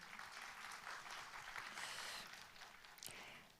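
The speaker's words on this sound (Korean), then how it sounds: "의장님께도 여러분 다시 한번 박수 보내주십시오" Audience applause at the 2024 Gyeongbuk Bio Industry Expo ceremony, a steady dense clapping from a crowd that holds at an even level throughout without voices.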